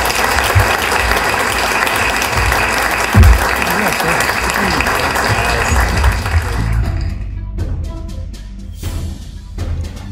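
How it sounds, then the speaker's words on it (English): An audience applauds a panel at the 2010 Leadership New Jersey Forum on the Future of New Jersey. The clapping is loud and full for about six and a half seconds, then thins out abruptly to a few scattered claps and faint voices. "Please a round of applause for our panel."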